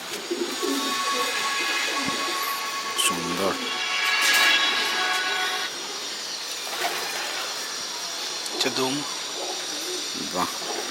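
Pigeons coo in short throaty bursts a few times over a steady hiss, with scattered softer calls around them, fairly close.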